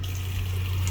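Water rushes steadily from an RV faucet after the lines were flushed, a continuous close hiss of flowing water with no pauses over a low hum.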